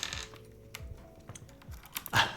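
A handful of spaced clacks from a Gem80 mechanical keyboard, close and fairly crisp, with a slightly louder cluster of presses near the end.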